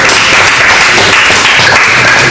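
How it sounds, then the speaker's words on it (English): An audience applauds steadily and loudly, dense clapping filling the room without a break from start to finish. "A round of applause for her."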